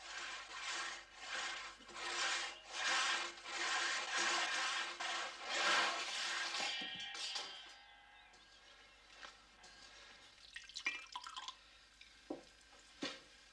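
Steady rhythmic rasping strokes of a hand saw cutting wood for several seconds, then stopping, followed by scattered light knocks and handling noises.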